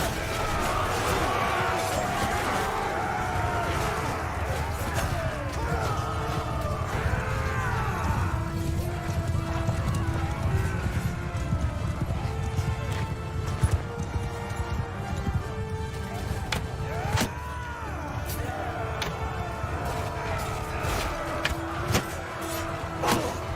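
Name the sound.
cavalry horses galloping, from video game Mount & Blade 2: Bannerlord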